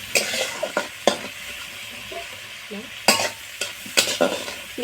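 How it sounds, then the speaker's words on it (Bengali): Prawns fry in oil with salt and turmeric in a kadai, a steady close sizzle broken by sharp scraping stirs and clinks of a spatula against the pan, with no talking. "এবার চিংড়ি মাছগুলো ভেজে নেব।"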